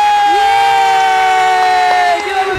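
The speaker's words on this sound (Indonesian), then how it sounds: "Kita berikan tepuk tangan kepada Zirang Isuzu Jawa Tengah." A crowd at the Isuzu dealer award ceremony roars and cheers for the winning dealer, Zirang Isuzu Jawa Tengah, a loud sustained shout with a strong high voice held across the whole moment.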